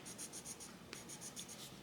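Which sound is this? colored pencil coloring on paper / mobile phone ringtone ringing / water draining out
colored pencil coloring on paper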